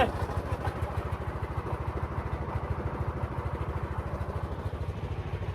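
A motorboat engine chugs steadily with a fast, even pulsing rhythm on a boat trip in Kushtia, running close and loud throughout with no voices.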